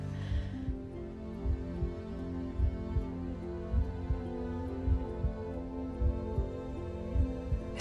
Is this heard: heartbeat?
yes